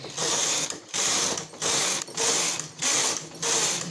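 A punch card knitting machine carriage runs back and forth across the needle bed while knitting a shawl. It makes six steady, rhythmic bursts of rattling, ratcheting mechanical noise, each separated by a brief pause at the turn.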